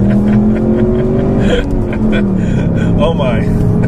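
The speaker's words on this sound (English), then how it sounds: "That would have been an ideal drag launch right there." A 2015 Ford Mustang EcoBoost turbo accelerates hard from a drag launch, its engine note climbing loud and close from inside the car while people talk over it.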